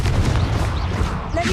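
Confringo blasting-spell explosion in the Hogwarts Legacy video game, a dense, loud booming burst that fills the short moment, with a voice shouting over it.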